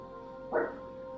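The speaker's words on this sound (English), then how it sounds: "Please, you don't need to bark" A single short dog bark or yip in the role-playing game Octopath Traveler 2, one brief mid-range burst over a steady tonal music bed.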